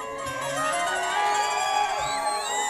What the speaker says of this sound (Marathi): यांच्यासाठी जोरदार टाळ्या झाल्या पाहिजे